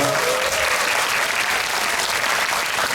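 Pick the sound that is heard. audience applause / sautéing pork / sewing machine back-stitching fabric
audience applause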